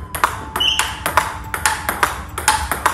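Table tennis ball struck with topspin on VICTAS V15 rubber, a fast rally of sharp, bright ticks and bounces repeating roughly every quarter second, close and loud.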